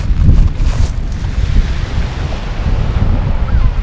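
Strong wind buffets the microphone on Deal Beach during a chilly February day of shore fishing, a loud continuous rumble with gusts and possible surf behind it.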